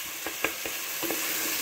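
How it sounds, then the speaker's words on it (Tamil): Boiled eggs being stirred into a tomato and red pepper masala in a pan, a few soft scraping strokes over a quiet sizzle. "அப்படியே இந்த மசாலா கூட இந்த முட்டையை பரட்டிக்கிங்க."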